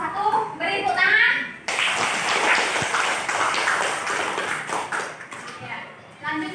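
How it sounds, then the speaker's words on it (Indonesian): A classroom audience claps for a student group after its presentation, a dense, steady wash of many hands lasting about five seconds, preceded by a teacher's brief talk and fading out at the end. "Beri tepuk tangan."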